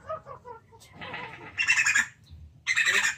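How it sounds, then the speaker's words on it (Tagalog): A crow squawks at a farm in harsh bursts, first a softer call, then two loud raspy squawks close to the mic, with brief gaps between them. "Crow yan eh. Yan yung ano, uwak, di ba?"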